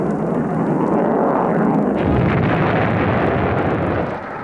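A V2 rocket roars steadily and loudly, with a dense, continuous broadband rumble that swells slightly midway and holds until the end.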